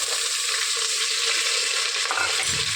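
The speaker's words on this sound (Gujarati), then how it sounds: "મરચાં નાખ્યા બાદ તેની અંદર આપણે લીમડો નાખી દઈશું આ રીતે." Green chillies and curry leaves crackle in hot oil for a kadhi tempering, a steady, loud sizzle heard close up with no voices.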